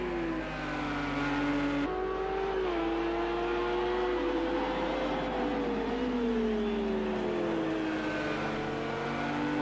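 A Lamborghini and a Porsche race cars lapping Hockenheimring in a racing video game, engines droning loudly with rising and falling pitch as they accelerate and shift, one car's tone sliding against the other.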